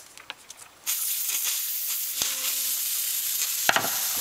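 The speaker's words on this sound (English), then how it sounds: "Look at that, yeah, it's just steam now" After a few faint clicks, a loud continuous hiss of steam escaping from a car's cooling system while air is purged starts abruptly and holds steady, with a brief low tone and sharp pops near the end.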